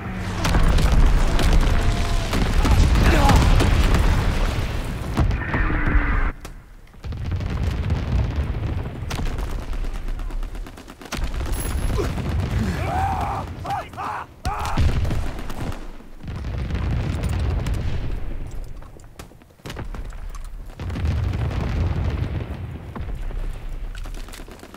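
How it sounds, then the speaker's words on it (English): Mortar rounds burst one after another in Call of Duty WWII, loud booming impacts repeating every few seconds through the whole stretch, close and heavy with rumbling tails. "Enemy mortar fire incoming."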